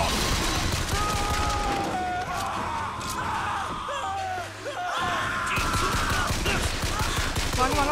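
Rapid gunfire bursts from Bioshock Infinite rattle loud and close amid yells and frantic game sounds, with a brief lull before the shooting resumes.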